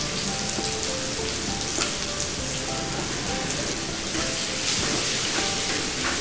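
Five crushed green chilies are stirred into a frying tomato masala for fish biryani, giving a loud, continuous close sizzle with scattered spatter pops and scraping stir sounds, no talking.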